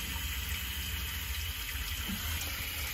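Warm water spraying steadily from the nozzle of a Luxe Neo 320 bidet set to nozzle-clean with hot water, a continuous close hiss with no talking.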